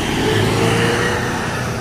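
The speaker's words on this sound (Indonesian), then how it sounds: "Melintas ada bus Putra Pelangi ya" A Putra Pelangi bus travels along an Indonesian road, its loud engine and tyre rumble filling the brief moment steadily as it passes close by, with no one talking.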